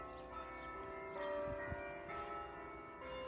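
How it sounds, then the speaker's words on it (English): Bells of St. Bernard's Catholic Church ringing outdoors, sustained overlapping tones with a couple of fresh strikes partway through, moderately distant and steady with no talking. "sound of the church bells."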